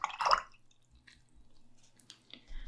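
Water is added to creamy watercolor crayons, giving one brief wet dripping squish near the start, followed by faint, soft liquid ticks in a quiet room.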